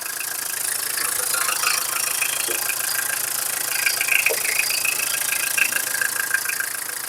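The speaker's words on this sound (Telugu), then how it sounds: "ఇంటికా ఇంజిన్ బీటింగ్ ఈ విధంగా ఉంటుందండి" A 2009 Tata Indica car engine idles steadily nearby, a continuous low mechanical hum with a faint rattle and occasional small knocks, no voices.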